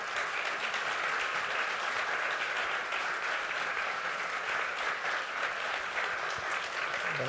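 Steady audience applause fills a conference hall after an opening talk, a dense, even wash of many hands clapping that holds without pause throughout.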